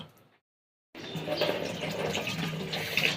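Tap water runs onto fish being washed in a kitchen sink, starting abruptly after a brief silence and continuing as a close, steady splashing stream, with a faint voice just before it.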